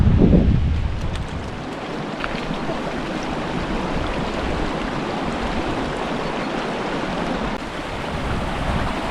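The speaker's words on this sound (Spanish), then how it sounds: "Ya se va escuchando el agua, la tenemos ahí." The Guadalevín river and its feeding streams rush along in the Sierra de las Nieves, a steady, broad wash of flowing water with wind buffeting the microphone at the start.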